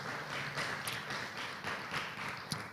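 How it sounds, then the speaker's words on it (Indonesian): A church congregation claps in praise during a Christian service, a faint, steady patter of many hands with a few sharper claps standing out. "Kasih tepuk tangan bagi nama Tuhan."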